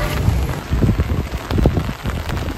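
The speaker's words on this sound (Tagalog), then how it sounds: "Umulan po dito sa Lawas Seaside Resort." Steady rain patters loudly and close at a seaside resort, a dense hiss with scattered drop impacts throughout and no one speaking.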